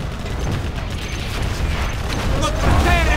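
Cannon fire and battle explosions in the real-time strategy game Command & Conquer Generals form a dense, continuous rumble of booms and mechanical clatter throughout.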